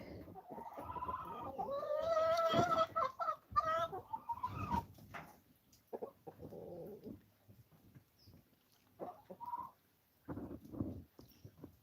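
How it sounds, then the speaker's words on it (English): Chickens and a rooster cluck and call on a farm in autumn, with bursts of fowl noise up close, some louder stretches early, then scattered clucks separated by quiet gaps, no speech. "That's the rooster."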